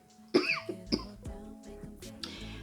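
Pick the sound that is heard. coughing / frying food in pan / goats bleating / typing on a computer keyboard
coughing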